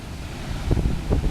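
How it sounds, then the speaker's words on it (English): Ocean surf breaks against the harbour wall at Tarfaya in blustery wind, a low rumbling wash of waves with a couple of heavier surges beneath strong wind buffeting on the microphone. "there's some spectacular waves being deflected off the harbour wall"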